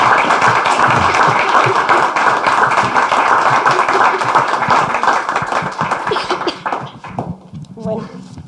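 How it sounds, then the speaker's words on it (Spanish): Audience applause at the close of a university forum marking the 50th anniversary of the Moon landing: dense, sustained clapping from a large crowd that thins and fades toward the end. "Creo que se merecen un gran aplauso."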